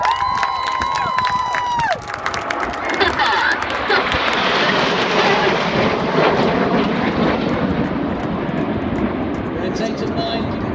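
Red Arrows BAE Hawk jets fly past at the Biggin Hill air show with a building, roaring engine rush that swells and sustains, a crowd murmuring beneath and a commentator talking at the start.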